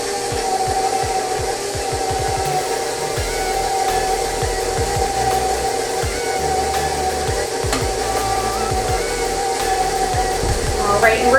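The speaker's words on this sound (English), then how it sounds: "we're just going to mix this until it is just combined" Electric mixer beating snickerdoodle cookie dough: a continuous close motor whir with rhythmic low thumps as the beaters work through the dough, while a person talks over it.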